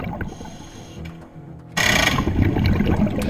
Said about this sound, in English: That noise you hear is the boat shifting from forward to reverse.